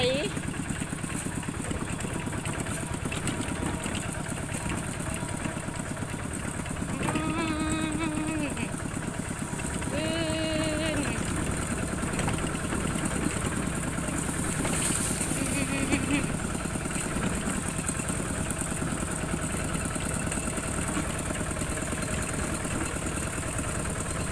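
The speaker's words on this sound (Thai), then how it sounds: "เราบ่ทันเคยขี่รถไถจะเกิดมา" A tractor engine runs steadily out by the rice fields, a continuous mid-pitched chugging hum with people talking over it throughout.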